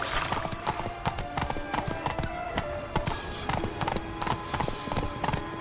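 The horse Roach galloping in the video game The Witcher 3: Blood and Wine, rapid rhythmic hoof clip-clops thudding close and loud over a busy ambient background.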